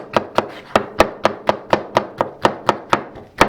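Steady, rapid knife chops on a cutting board, about a dozen sharp thuds evenly spaced, close and clear with no talking.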